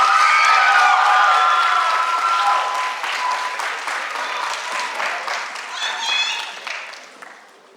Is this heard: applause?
yes